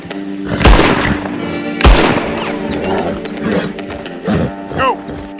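Two loud, sharp gunshots from Red Dead Redemption 2, fired to scare off a bear while riding a skittish mare, followed by softer mechanical clicks and rattling of the gun being worked, with game ambience under it.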